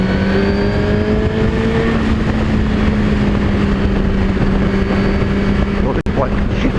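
Suzuki GSX-R1000 superbike with a Yoshimura exhaust, its engine droning at a steady high pitch under heavy wind roar, with a short sharp break near the end.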